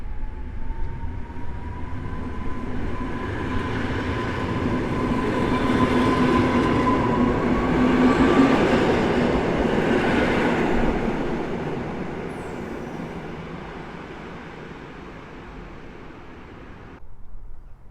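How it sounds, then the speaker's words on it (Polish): An Intercity train pulls out of Sosnowiec Główny station bound for Kielce Główne, a steady rolling rumble with a faint high squeal that swells as it passes close, then eases away. "niecałe pół minuty do odjazdu rusza pociąg do stacji Kielce Główne"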